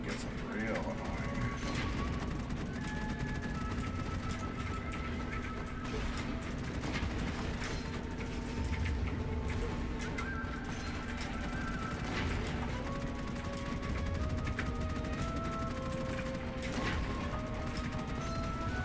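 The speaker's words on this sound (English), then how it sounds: "Thought that cannon fire was annoying? Oh, now it gets real annoying." Repeated cannon fire in the shooter game Gunfire Reborn comes as dense, continuous booms and crashes under a steady game soundscape.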